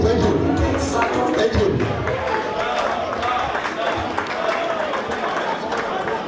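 Crowd clapping and cheering at a Teachers Day celebration in Freetown, a busy burst of applause that is loudest at the start and gradually thins, with voices mixed in.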